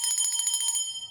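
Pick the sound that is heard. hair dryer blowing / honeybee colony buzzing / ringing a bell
ringing a bell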